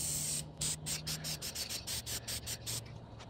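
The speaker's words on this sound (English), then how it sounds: "when you're using a rattle can, you always want to keep it smooth, keep it moving" A rattle can sprays paint onto a 1998 Jeep Grand Cherokee in a back yard, about a dozen short hissing bursts in a quick, even rhythm, close and fairly loud with no talk.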